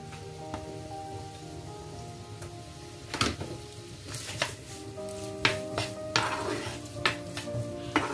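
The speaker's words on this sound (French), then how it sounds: "Donc je rajoute mes carottes. Je vais les faire cuire à feu doux." Carrots sizzling in a pan over low heat while being stirred, a steady crackling fry broken by several sharp scraping and clattering stirs, close and fairly loud.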